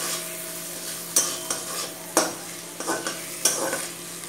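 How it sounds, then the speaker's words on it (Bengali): Ground spices with a little added water frying in a pan for a prawn and pointed gourd curry, a continuous sizzle punctuated by several distinct scraping stirs, close and moderately loud. "মশলাটাকে এবার ভালো করে কষিয়ে নেব"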